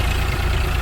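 Eicher 485 tractor engine running close by, a loud, steady low rumbling idle lasting under a second.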